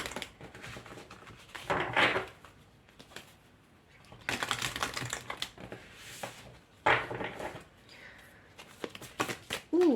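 Oracle cards are shuffled in several brisk riffling bursts separated by pauses, close and fairly quiet, with a person speaking softly between them.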